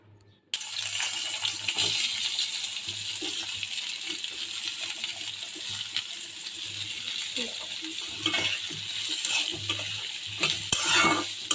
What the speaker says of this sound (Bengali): রসুনগুলি ভাজা উঠায় নিছি, এখন পেঁয়াজটা ভাজা নিব।